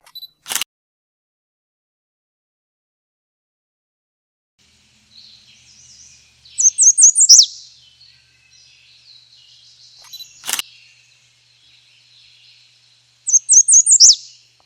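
Migratory songbirds such as an American redstart sing in the woods, with two repeated bursts of high, rapid chirping notes and faint calls between them, along with two sharp clicks from a camera shutter.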